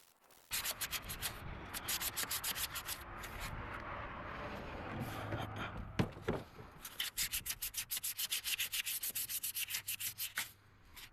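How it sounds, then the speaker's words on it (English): Steady back-and-forth scuffing of sandpaper over a plastic GMT400 truck grill, rhythmic rasping strokes with a brief pause midway, close and continuous. "I've almost got this whole grill sanded down."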